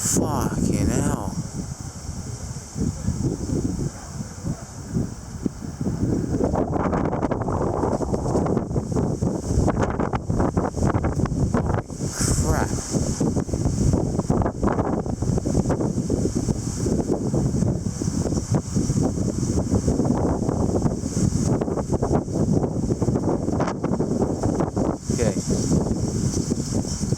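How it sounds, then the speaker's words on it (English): Strong wind gusts roar across the microphone in a continuous, loud rush during a windstorm in Kelowna, British Columbia, with someone talking over the noise. "These random gusts just been like that and fucking are just insane."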